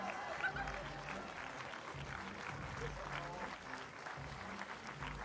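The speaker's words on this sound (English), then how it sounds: "All the applause to these strong and really agile women." A crowd applauds the women's parkour freestyle finalists at FISE Montpellier, a steady wash of clapping under a voice talking over it.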